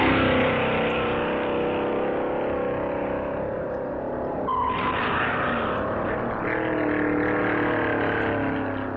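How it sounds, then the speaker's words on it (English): 1957 NASCAR Grand National race cars, including a Pontiac, racing on the Daytona Beach road course, a loud steady engine roar with a brief surge midway and a second car sweeping in, with no talking. "Owens' Pontiac responds to his touch and is keeping up the pressure on the front runner"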